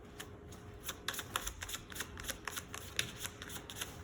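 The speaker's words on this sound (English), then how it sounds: "Last shuffle." Tarot cards being shuffled by hand, a run of quick papery riffles and slaps in an uneven rhythm, close and fairly quiet with no talking.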